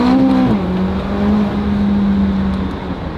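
A McLaren 570GT engine revs through quick gear shifts, a loud, close droning note that drops sharply at a shift and then holds steady before fading slightly.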